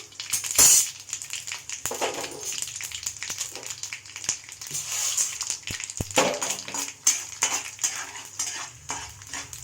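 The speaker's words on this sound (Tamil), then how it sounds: "கடுகு, வெந்தயம், தனியா எல்லாம் போட்டுக்கணும். தாளிக்கிறதுக்கு எல்லாம் கொஞ்சம் நேரம் வறுக்கணும்." Dry crackling and sharp scraping of mustard seeds, fenugreek and coriander seeds roasting in a hot pan, with frequent metallic clinks, close and steady, no voices.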